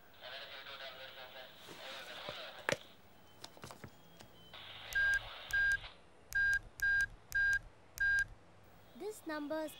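A telephone number is dialed on a keypad, a series of about six distinct touch-tone beeps in an even rhythm, close and clear, following some indistinct talk and scattered clicks, with a voice starting at the end.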